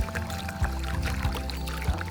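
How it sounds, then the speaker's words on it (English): Water pours steadily into a bowl to dissolve salt into brine for Korean kimchi, a continuous splashing stream with a few louder glugs, close and alone without talk. "make salt water with 5 cups of water and only a half cup of salt."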